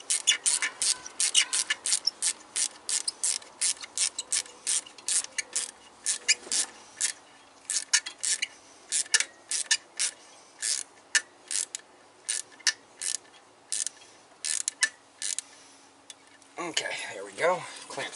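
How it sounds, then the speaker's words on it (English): A hose clamp being tightened on a Subaru 2.5 engine, rapid ratcheting clicks in uneven bursts for most of the span, close and fairly loud, with a brief rustle near the end. "tighten up the clamp."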